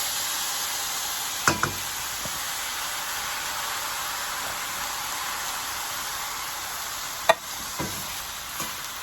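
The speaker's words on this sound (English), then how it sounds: "And we just give it a stir." Diced tomatoes with their juice sizzle in a pan as they are stirred, a continuous hiss broken by a couple of sharp utensil knocks against the pan.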